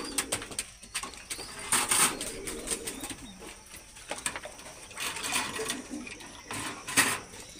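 Pigeons kept through hot weather coo softly in bursts among low background rustling and clatter, the calls faint to moderate and spaced unevenly.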